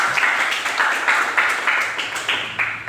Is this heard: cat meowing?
no